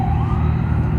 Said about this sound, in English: There's a police ambulance.